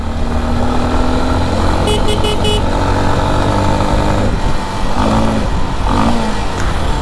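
A motorcycle rides through the crowded bazaar at Rarali in Jumla, Nepal, its steady engine drone continuous throughout, with brief horn toots and market bustle around it.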